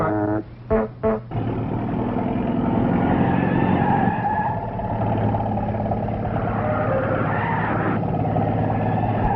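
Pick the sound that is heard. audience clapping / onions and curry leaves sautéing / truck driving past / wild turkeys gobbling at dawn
truck driving past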